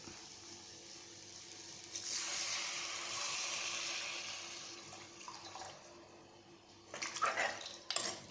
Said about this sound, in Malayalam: ഇനി ഇതിലേക്ക് 1 കപ്പ് വെള്ളം കൂടി ഒഴിച്ചു കൊടുക്കണം